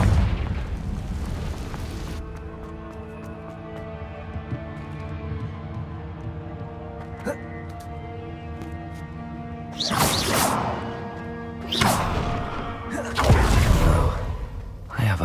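A Confringo fire spell in a Harry Potter video game bursts with loud booming explosions and whooshes, several blasts landing near the end over a sustained game music bed.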